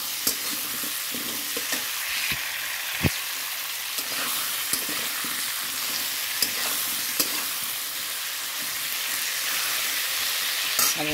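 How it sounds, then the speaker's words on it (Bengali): Pointed gourd, potato and onion fry in a pan, giving a steady broadband sizzle with a scatter of sharp clicks and scrapes as a spatula stirs. It is close and even, with no voices. "পটলটা একটু ভালো করে না ভাজলে না ভালো লাগে না।"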